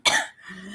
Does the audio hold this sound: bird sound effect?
no